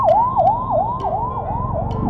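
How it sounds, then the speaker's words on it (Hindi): An ambulance siren wails loud and close on a highway between Prayagraj and Kanpur, its rising-falling tone repeating in quick regular cycles with road rumble beneath. "सॉरी भाई, एम्बुलेंस को तो जरूर रास्ता दे दिया करें।"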